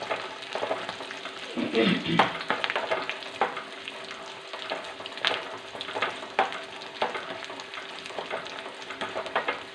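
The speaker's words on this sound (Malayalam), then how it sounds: "കറിവേപ്പില ഇടുന്നു ആദ്യം" Curry leaves fry in a pan for homemade rasam, giving a soft steady sizzle broken by crackles and the clicks and scrapes of stirring, close and fairly quiet.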